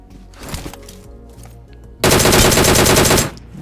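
Loud automatic gunfire in the mobile battle royale game BGMI, a short burst followed by a sustained, rapid stream of shots lasting over a second, close and dominant with no talk.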